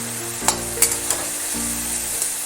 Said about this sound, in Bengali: এবার সব মশলাগুলো ভালো করে ভেজে নেব।